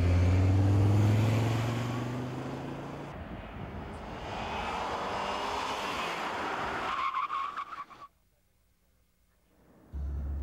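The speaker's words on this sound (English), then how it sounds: "Now, off the line, I've noticed there's a noticeable lag, but once the turbo kicks in, this thing moves" An Audi 200 with a turbocharged engine accelerates hard from a standstill, a loud rising engine roar with road and tire noise heard from inside, easing off before a sudden drop to near quiet, then a thump.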